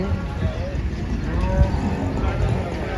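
A Holstein-Friesian cow at a cattle market in Chalisgaon moos over a busy, noisy background, with people talking nearby.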